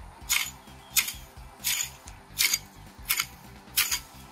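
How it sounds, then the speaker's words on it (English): A garden blade swung through plants in a sweeping motion, six evenly spaced swishing cuts about every 0.7 seconds, fairly faint over a low steady background hum. "You just swing the blade like that, and they're gonna cut."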